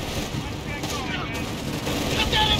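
Heavy machine gun fire in Company of Heroes 3, a dense battlefield wash of rapid bursts and distant booms that continues steadily, with shouted voices over it.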